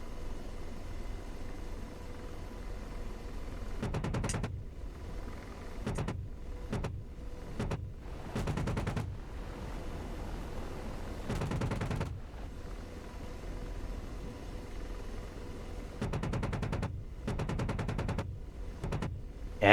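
Cannon fire from an AH-64D Apache attack helicopter in the DCS World combat game: several short, loud rattling bursts spaced a few seconds apart, each standing out over a steady rotor and engine drone.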